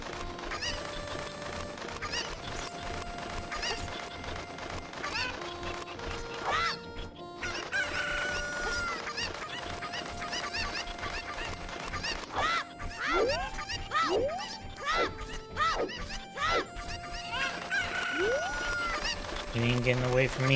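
Chickens clucking and a rooster crowing in Zelda Ocarina of Time, the game sounds dense and steady over looping music and other effects for about twenty seconds.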